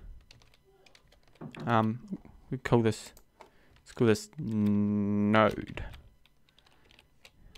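Bursts of keyboard typing and clicking on a computer come through faintly in short runs between spoken words from a man nearby.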